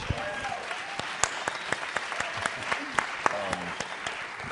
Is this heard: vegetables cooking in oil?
no